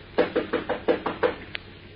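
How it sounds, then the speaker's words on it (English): Knocks on a door as a sound effect in a Superman and Batman radio drama, about seven evenly spaced, fairly close raps followed by a short sharp click, with no voices. "He stops and knocks on the door."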